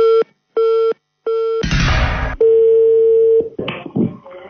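Phone-game tones ring out: three short repeated beeps like a ringback or busy signal, a burst of noisy static, then a long steady dial tone followed by a few brief electronic blips.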